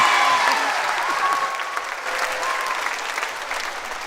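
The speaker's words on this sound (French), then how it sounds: "On applaudit ça de là bien bien fort" An audience at a TIMAMBO 2014 talent show applauds loudly, with a thick wash of clapping that starts strong and eases slightly while staying continuous, and faint voices and tones appear in the mix.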